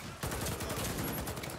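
AK-103 rifle fire in the online shooter Warface, a fast burst of rapid shots close up and fairly quiet, starting abruptly and running without pause to the end.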